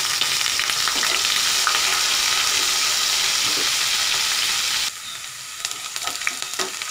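A medium onion frying and being stirred in oil in a kadai with whole cumin seeds, giving a loud, steady sizzle with scraping stirs that suddenly drops to a quieter crackle near the end.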